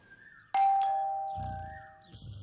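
A two-tone doorbell chime rings out loudly and clearly in a home, its tones ringing on and slowly decaying, with low rumbling background sound toward the end.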